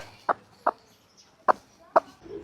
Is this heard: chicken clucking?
yes